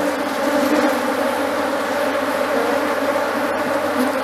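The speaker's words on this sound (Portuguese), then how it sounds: "As abelhas grandes, né?" Honey bees buzz densely around an opened hive during a colony split, a close, steady swarm drone that fills the space without pause and carries no talking.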